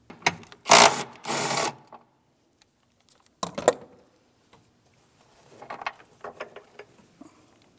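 Ratchet wrench backing out the 10mm battery hold-down bolt on a 2007-2014 GMC Sierra 2500 HD, with a long burst of rapid clicking followed by shorter ratcheting bursts and small metallic knocks, close and with pauses between.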